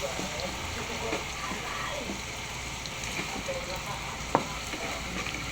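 Tofu frying in a pan and being stirred gives a constant sizzling hiss with soft scraping and occasional clicks, one sharp tap near the end.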